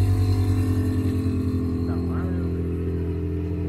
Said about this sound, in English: Compressor is really turned on now that the car is on.